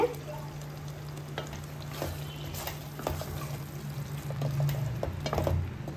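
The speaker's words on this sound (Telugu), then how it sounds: "కసూరి మేతి వేసి ఒక 2 మినిట్స్ ఫ్రై చేద్దాం" Kasuri methi fries in a restaurant-style butter chicken curry, giving a soft, close bubbling sizzle with scattered crackles and faint stirring, growing slightly louder toward the end.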